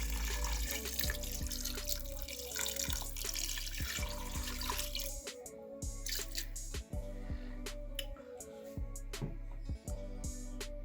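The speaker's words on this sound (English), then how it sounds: "And then lastly, I will be adding my water." Water poured from a container into a pot of bitter leaf soup with salt and ede, a steady splashing trickle with a few drips and clinks, close and fairly loud, no voices.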